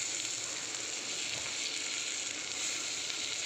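Tomatoes hit a frying pan of spices, ginger-garlic paste and turmeric for a soybean and potato curry, and a steady, bright, moderately faint sizzle holds throughout with no voices.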